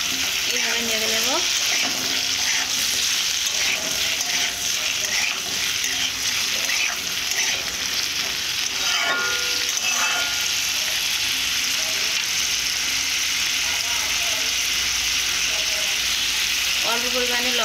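Beetroot vegetables stirred and fried with salt in a pan, a steady broadband sizzle throughout with occasional scraping stirs, with speech audible briefly at times.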